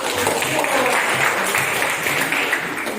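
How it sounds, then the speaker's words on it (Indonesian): A classroom of students applauds a student group after its presentation, loud, dense clapping that holds steady throughout with no voices over it. "Tepuk tangan juga untuk kelompok 1"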